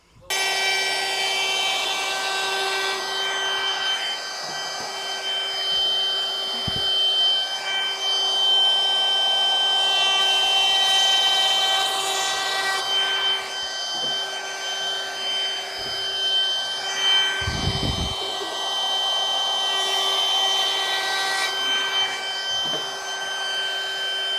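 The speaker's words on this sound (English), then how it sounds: "go backwards in the direction you would normally use a router, because I don't want to blow out any pieces" Router running steadily on timber frame wood, cutting backwards against the usual feed direction on frame legs; a continuous loud whine with a constant tone, close by, with brief thumps along the way and no talk.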